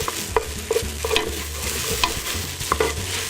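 Tomato paste is stirred and scraped around a hot pan, with soft sizzling frying beneath a series of irregular spoon clicks and scrapes, close and fairly loud, with no talking.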